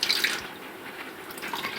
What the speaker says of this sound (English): So just pour some in here.